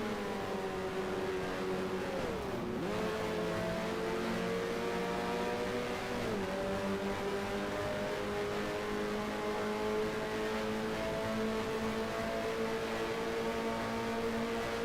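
Racing car engines in the F1 Challenge game during a 1975 season race, a steady loud whine holding throughout with a couple of brief dips and pitch swoops as the car shifts gear.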